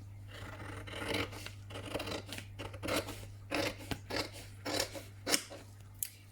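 Scissors cut through a plastic sheet for a homemade face mask, making a run of close, rasping snips and crinkly rustles in an uneven rhythm, with a steady low hum underneath and no talking.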